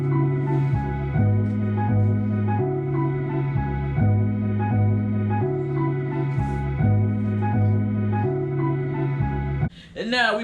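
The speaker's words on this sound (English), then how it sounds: "This is what the counter melody sounds like." The counter melody of a boom bap hip-hop beat plays as a steady looping line of sustained, tonal notes at a consistent level, ending with a brief voice.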